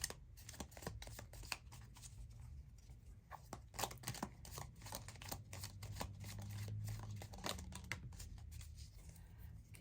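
Tarot cards are shuffled by hand in a close, quiet stream of irregular papery flicks and riffles, with soft slaps and rustles continuing without a break.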